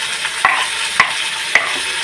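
Tomatoes go into masale bhat frying in a pan, a steady sizzle with three sharp stirring scrapes spaced about half a second apart, close and fairly loud.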